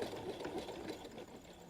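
A sewing machine runs a straight stitch with an open toe foot at stitch length 2.5, giving a brief, soft, steady mechanical whir heard close by.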